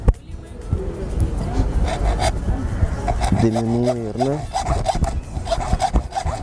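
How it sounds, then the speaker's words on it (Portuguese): A handsaw rasps back and forth through a small wooden plaque in a woodworker's shop, rhythmic scraping strokes close up, with someone speaking Portuguese briefly over the cutting. "com o meu serrote."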